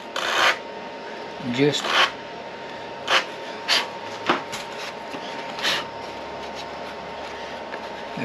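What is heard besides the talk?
sanding Depron foam with a sandpaper block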